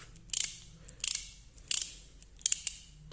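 A Black and Decker ratchet tool turned in short strokes, giving four bursts of quick, crisp mechanical clicks about every two-thirds of a second, close up and fairly quiet.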